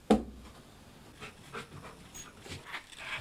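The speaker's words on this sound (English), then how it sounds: "Japanese fighting dog." A large Japanese fighting dog pants in quick, fairly close breaths after an initial thump, the rhythmic huffing continuing at moderate volume.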